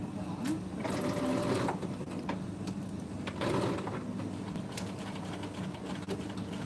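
A sewing machine runs in short stitching bursts with a rhythmic mechanical whir and clatter, with people talking faintly in the background.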